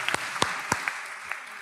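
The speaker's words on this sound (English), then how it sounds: "I don't deserve applause." A few scattered, separate claps from a small audience at a book talk, sharp and distinct with gaps between them, fading after about a second rather than building into full applause.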